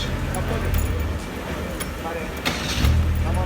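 A petrol-running Tofaş car idles with a low engine rumble that swells near the end as the revs rise, while a person talks over it close by.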